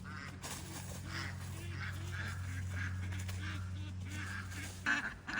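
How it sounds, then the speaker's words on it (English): Ducks keep up a steady chorus of low, contented quacking and honking, fairly close and continuous, with no voices over it. "Those are some happy duck noises."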